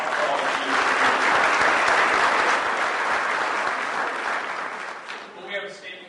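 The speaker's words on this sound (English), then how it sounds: "Join me in thanking Barb for all of you" Loud, steady applause from a standing-room audience at a Montgomery County swearing-in ceremony for elected officials, sustained for several seconds before tapering off slightly at the end.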